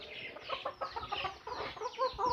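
A Golden Sebright hen clucks close by in a rapid, uneven run of short notes, alone and fairly quiet.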